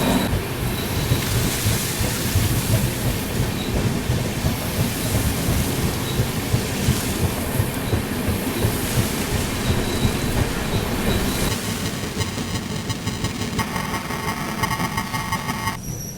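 Heavy rain and thunder in the Bhor Ghats, pouring steadily around a Pragati Express train climbing through the mountain section, with a continuous loud wash of rainfall and low rumbling throughout and a brief high ringing tone near the end.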